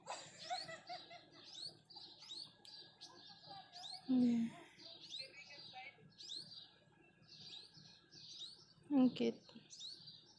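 Small bird near its nest, giving quick high chirps in bursts throughout, close by, with soft laughter and quiet talk mixed in.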